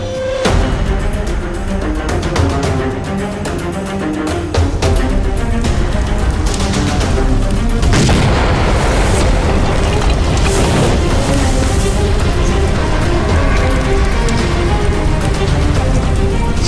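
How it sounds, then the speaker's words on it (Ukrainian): A grenade detonating in a safety demonstration against mannequins, heard as a loud, sustained blast and rumble filling the whole stretch, with no talk over it. "Зараз ви побачите, як вибухне граната."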